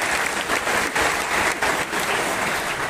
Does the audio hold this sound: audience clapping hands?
yes